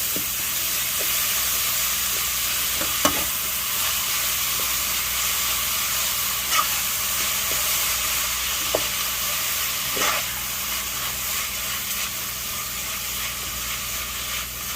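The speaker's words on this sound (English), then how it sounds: "give this a stir. It's gonna clump up, and that's okay." A seasoned rice mixture frying in a pot for a meatless pelau gives a steady, close sizzling hiss, with occasional soft scrapes and knocks from a spoon stirring through it.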